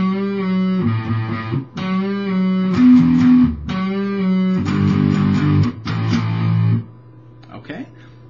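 Distorted electric guitar power chords chug through a riff in several repeated bursts, loud and alone, before fading into a quiet tail.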